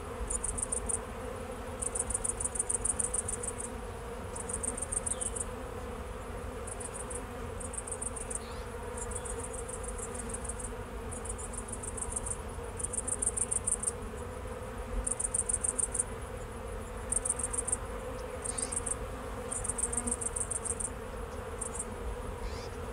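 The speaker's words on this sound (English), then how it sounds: "Grasshopper." A grasshopper chirps in a meadow, repeating rapid, buzzy trills in regular bursts with short pauses over a faint outdoor hum, alone with no voices.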